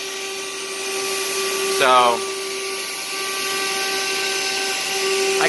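An 8mm single flute router bit on a CNC machine cutting at 21,000 RPM and 100 inches per minute, a steady high whine and rushing noise throughout, with a short spoken word partway through.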